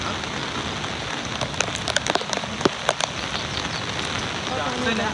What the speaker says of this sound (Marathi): इतका पाऊस लागतोय की डॅमचे पूर्ण पाणी पूल ओलांडून क्रॉस करेल